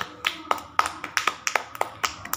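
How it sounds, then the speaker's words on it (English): Hands clap in a quick, fairly even series of about a dozen soft claps, close by, in a quiet room. "Clap."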